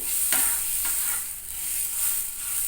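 Ridge gourd curry sautéed dry in a pan over a full gas flame sizzles steadily and close, with a few quick stirring scrapes near the start.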